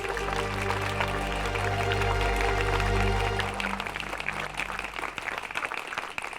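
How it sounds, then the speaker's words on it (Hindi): Students in a school assembly clap together to welcome a guest, a broad steady wash of applause mixed with a low sustained hum that fades partway through, leaving scattered crisp claps. "बच्चों, माननीय अतिथि जी का स्वागत तालियां बजाकर कीजिए"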